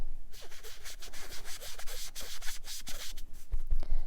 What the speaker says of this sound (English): Does anybody else have the aversion to the sponge sound like me?